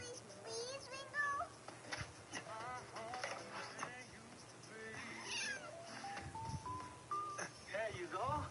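A cat meowing in a cold setting, several drawn-out rising and falling meows spread across the stretch, fairly close, with faint background noise and a person talking softly at times.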